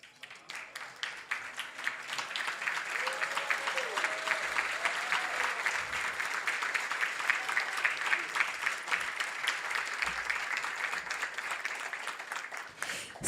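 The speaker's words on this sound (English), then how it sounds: "Let's give them another round of applause, please" Sustained audience applause at an awards ceremony honoring Latino leaders, a dense, steady wash of many hands clapping for about thirteen seconds, with faint voices calling out briefly underneath.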